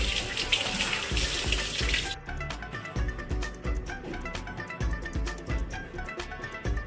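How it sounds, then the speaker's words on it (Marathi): Curry leaves rinsed under a running kitchen tap, water hissing hard at first, then a dense stream of splashes and rustling leaf handling close up. "आता ही आम्ही पहिला धुतो, कारण की धुळीड असते."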